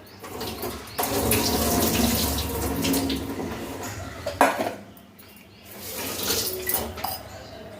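Running tap water pours into a sink as tamarind is washed, with clattering dishes and handling sounds, easing off midway before the water resumes; no one speaks.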